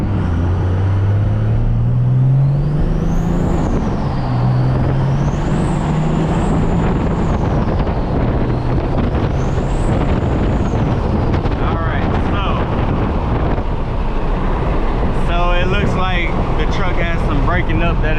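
A 12-valve diesel truck engine running a race tune accelerates while recorded from inside the moving truck. Its drone rises and stumbles under heavy, constant wind rumble.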